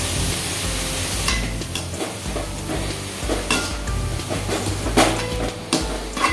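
Vegetables for kalan stirred and sautéed in a pan, with a steady loud sizzle and repeated scraping, clanking strokes of a spoon against the pan.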